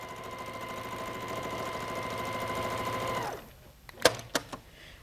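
Sewing machine running steadily while free-motion quilting meandering loops across a quilt block, a continuous loud whir for about three seconds that stops abruptly, followed by a few sharp clicks and knocks.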